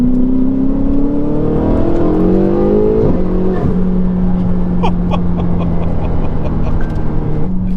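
A tuned Ferrari 488 with bigger turbos, cat deletes and an aftermarket exhaust revs loud and close, its pitch climbing steadily, dropping sharply at a shift around three seconds, then settling into a steady drone.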